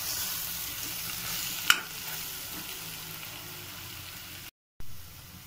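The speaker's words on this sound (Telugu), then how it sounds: "ఇప్పుడు బాగా కలుపుకొని మరొక 2 మినిట్స్ సిమ్ లోనే మగ్గనియాలి" Andhra-style mutton gravy simmers and is stirred in a pan, giving a soft, constant bubbling hiss with one brief clink of a utensil, fairly quiet and close.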